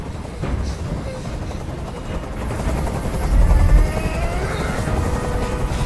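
Helicopter noise in the video game Detroit: Become Human, a steady dense rotor roar that swells briefly midway and persists throughout, loud and close, with no talk over it.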